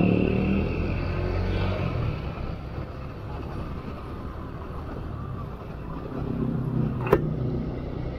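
Continuous road traffic around a university campus, heard from inside a vehicle with the windows closed: a steady engine and tyre rumble that swells near the start and end, with one sharp click near the end.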